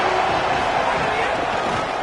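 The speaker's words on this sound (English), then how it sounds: "This crowd trying to make life miserable for this offense." Football stadium crowd at a college game between LSU and Oregon, a dense, steady roar filling the whole stretch, loud and unbroken.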